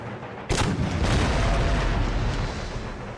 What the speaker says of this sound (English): As the cannon continue their onslaught